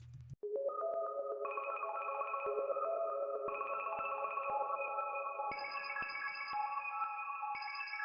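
A dark ambient Omnisphere pad melody runs through Gross Beat and reverb in FL Studio, held tones stepping upward in clear stages with faint rhythmic gating and a ringing tail, no voices.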